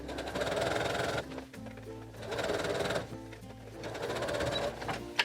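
Sewing machine stitching a cross-body water bottle holder bag in bursts of steady rapid whirring, three runs of about a second each separated by brief pauses.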